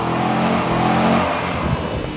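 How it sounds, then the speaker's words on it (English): Mercedes SLK 55 AMG convertible, a deep, loud engine roar with steady exhaust drone, holding a sustained note then shifting as revs change, heard up close with no talk. "So you can hear the roar from the engine, every pop and crackle from the exhaust when you downshift"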